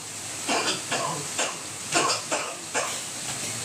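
A series of short, breathy coughs spaced irregularly, fairly close, over a faint background hiss.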